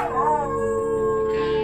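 A dog howls indoors, a single loud, close, sustained tonal howl that wavers in pitch and holds for well over a second, with no talking.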